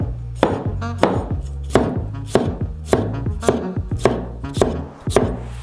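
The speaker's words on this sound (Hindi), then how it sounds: "अचारी ककड़ी का जार खोलते हैं, एक ककड़ी बाहर निकालते हैं और काट देंगे" A knife chops a pickled cucumber on a cutting board in about nine crisp, evenly spaced strokes, close and loud, with no talking.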